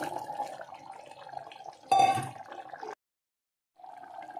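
Boiled chickpeas poured along with their cooking water into a pan of curry gravy for a Tamil Nadu-style chole kurma, a steady close liquid pour with a brief louder splash, then a short silence before pouring resumes.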